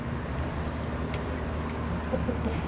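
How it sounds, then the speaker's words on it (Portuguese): Chickens newly bought for a freshly finished coop clucking as they are fed corn, a steady layered flock murmur at moderate level with scattered clucks, and no speech. "joga é o milho pras galinhas"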